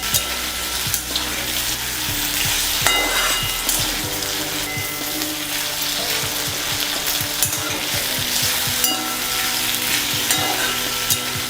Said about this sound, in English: Turning around the potatoes and sauteing them for about 5 minutes